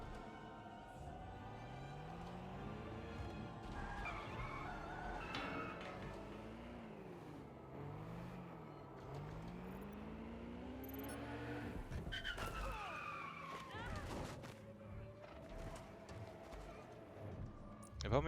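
Car driving and skidding in the video game Watch Dogs Legion, a wavering engine drone rising and falling with gear changes, tire squeals and clattering bumps, a voice talking over it.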